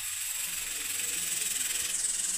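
A pressure cooker lets off a steady, loud hiss of escaping steam in a home kitchen, continuous and even for a couple of seconds with no pauses.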